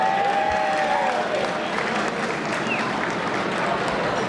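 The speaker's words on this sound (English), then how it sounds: "Give them a round of applause." A crowd at a Tampa gala applauds steadily, a dense, even wash of many hands clapping at constant loudness throughout, with faint voices mixed in.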